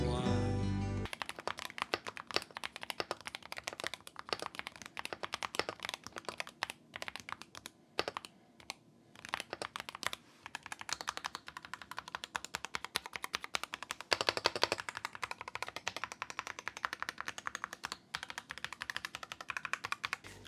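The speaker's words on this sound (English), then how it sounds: "so let's do the typing test." Fast, continuous typing on a MOD007 Santorini mechanical keyboard with 3-pin switches, a dense stream of close, crisp key clacks with brief pauses, heard alone.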